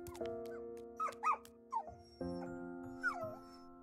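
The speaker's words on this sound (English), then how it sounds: "What are you barking about?" A dog in a video game, whimpering and yipping in short high bursts over a steady humming tone, several separate calls spaced across the stretch, fairly quiet and heard without talk.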